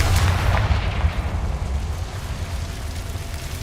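A Confringo blasting spell erupts in Hogwarts Legacy, a loud, booming explosion with a deep rumbling low end that rolls on and slowly decays over several seconds, with no voices over it.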